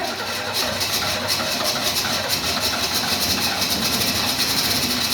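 A 1968 Ford Mustang engine running steadily after cranking, a loud continuous mechanical roar with a rapid rhythmic pulse throughout, no voices over it.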